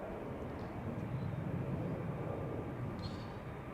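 A KLM airliner taxiing toward the runway at Amsterdam Schiphol, a low steady engine rumble heard from a distance, continuous and fairly faint.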